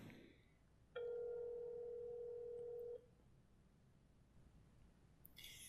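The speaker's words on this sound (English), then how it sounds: "He just let his phone ring, ring, ring." A single ringback tone on an outgoing telephone call, one steady two-second ring in a quiet line, with faint clicks before and after and nobody answering.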